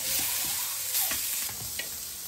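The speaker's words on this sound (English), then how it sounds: "Start with the fat side down." Lamb chops sear fat side down in a hot pan, giving a steady broadband sizzle with a few soft scrapes and clicks, close and fairly quiet, no voices.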